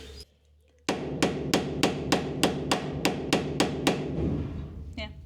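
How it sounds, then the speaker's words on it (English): About ten sharp metallic hammer strikes on rivets in a steady, even rhythm, loud and close, ringing briefly after each blow. "which entailed hammering and then drilling 1078 rivets"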